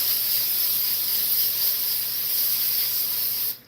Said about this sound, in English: I'm about to spray this foil here to keep it from sticking.